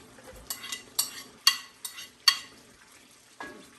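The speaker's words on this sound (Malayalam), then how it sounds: "ഒരു സെയിം ഓയിലിൽ തന്നെ നമ്മൾ കുറച്ച് ഒനിയൻ ഇട്ടു ഗാർലിക് ഇട്ടു" Onion and garlic tossed into hot oil left over from frying fish, with a series of sharp, close scraping stirs at an irregular rhythm over a faint sizzle.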